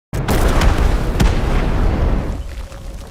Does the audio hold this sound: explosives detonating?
yes